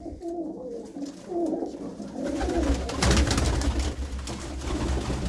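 Pigeons kept in a loft, several birds cooing in soft repeated low throaty calls close by, followed by rustling and shuffling noise.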